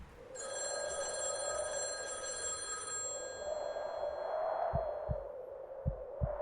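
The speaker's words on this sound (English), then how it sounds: "His phone rang." A telephone rings in a horror audio story, a steady electronic trill lasting about three seconds that fades out, followed by low, dull thumps like footsteps near the end.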